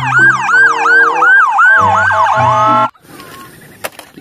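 Toy police car siren wailing loudly and steadily in a rising-falling electronic pattern for about three seconds, then cutting off abruptly, leaving faint background noise.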